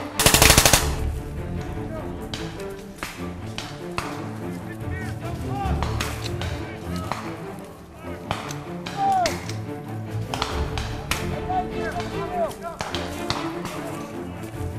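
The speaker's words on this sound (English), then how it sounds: "Alpha team is laying down a base of fire to give suppressive fire on the enemy." Suppressive gunfire from a military training exercise, with a base of automatic weapon fire laid down continuously; sustained bursts and rapid cracks throughout, loud and fairly close, with voices faintly under the shooting.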